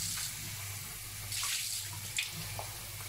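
Tap water runs steadily into a grass head planter, a continuous splashing stream close by, with no talk over it.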